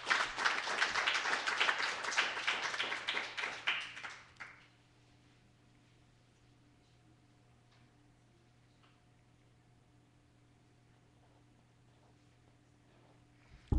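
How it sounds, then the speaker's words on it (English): A live poetry-night audience breaks into dense, steady applause that lasts about four seconds and then stops abruptly, leaving only low room hum and near silence. "Round of applause for all of tonight's poets."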